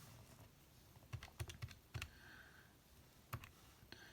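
Keys tapped on a calculator while numbers for a population iteration formula are entered, a quiet run of separate clicks in uneven bursts, with a brief pause before a final few presses.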